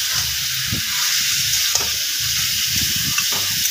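Beef frying in a pan while being stirred and seared, a steady close sizzle with scraping stirring strokes throughout and no talking.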